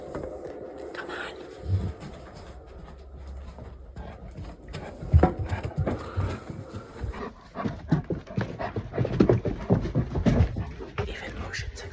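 A dog pants in quick, rough bursts close by, amid movement and rustling on the way to go surfing in Rhode Island. Voices talk intermittently over it.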